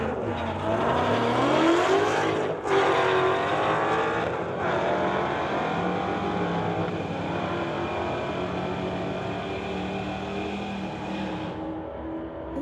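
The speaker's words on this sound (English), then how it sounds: "we've got Ryan from Surrey in the Shelby GT500 in the pit side, Derek from Surrey in the 2015 Mustang on the spectator side" Shelby GT500 and 2015 Mustang launching in a street-legal drag race at a strip, loud engines roaring and revving up through gears, fading slightly as the cars pull away, no talk.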